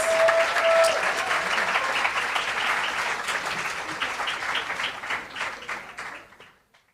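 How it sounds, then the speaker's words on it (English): An awards ceremony audience gives a loud, dense round of applause to welcome an all-male band, clapping steadily before thinning into scattered claps and fading out. "let us give them a proper welcome with a resounding round of applause"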